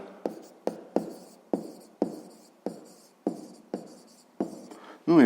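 Pen writing on paper during a 5th-grade maths exercise: a steady series of about ten sharp, close scratchy strokes, each fading quickly, with a brief voiced sound at the very end.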